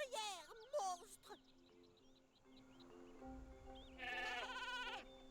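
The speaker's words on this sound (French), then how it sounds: "on a ramené des moutons" Sheep bleat in the pasture level of the video game Skylanders: Spyro's Adventure, several wavering calls near the start and a longer burst near the end over a quiet game tone, with soft voices in between.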